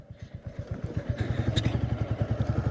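A motorcycle ridden along a road toward Tuidang in Dang throbs with a steady, rapid engine pulse that grows slightly louder and more even as it goes, heard alone without talk.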